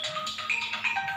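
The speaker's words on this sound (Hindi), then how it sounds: "उनका फ़ोन आया" A phone ringtone plays a short repeating electronic melody, steady and fairly close, with no talking over it.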